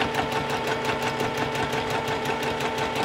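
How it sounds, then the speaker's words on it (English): A sewing machine runs steadily while quilting fabric over a slider mat, a close, continuous fast mechanical hum and rapid needle chatter with no pauses. "as I'm quilting, underneath you can see that my super slider starts moving with my fabric"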